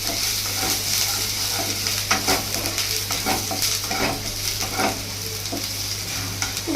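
Garlic and onion frying lightly in a pan, a steady close sizzle with repeated stirring scrapes and clinks over a constant low hum, no talking.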